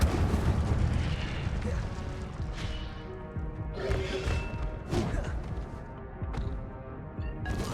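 Fire spell cast in Hogwarts Legacy amid continuous game combat, a dense roar of booming, crashing bursts with repeated sharp impacts layered over a steady low rumble.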